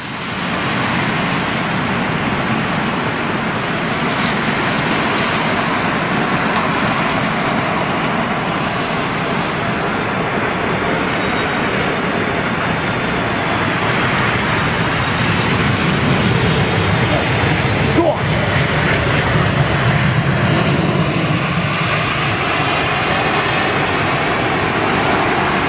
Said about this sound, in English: let's have some nice, big, wet reversals from those Gen X motors